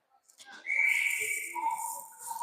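A referee's whistle at a youth ice hockey game between Cottage Grove and Warroad rings out in sustained tones over arena noise, with faint voices around it.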